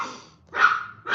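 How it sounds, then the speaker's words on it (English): A dog barks indoors in two loud, close bursts separated by a brief pause, with a third bark starting at the end. "Sorry about the barking."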